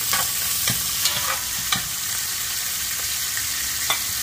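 Onions and chives sizzling in hot oil with curry leaves, a loud, close, continuous fry punctuated by a few sharp stirring clicks of a utensil against the pan, with no voices.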